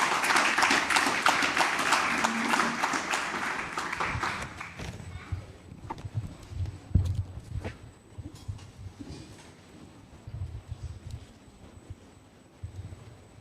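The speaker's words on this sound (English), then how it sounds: "How about a round of applause for our panelists?" Audience applause for the panelists at a live Gamers Nexus tour event in Myrtle Beach, a dense burst of clapping in the first four seconds that quickly fades into scattered claps, shuffling and room noise.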